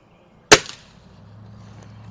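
An Umarex Prymex .22 caliber air rifle fires one sharp, close crack at a range on its first outing, then fades into quiet outdoor ambience.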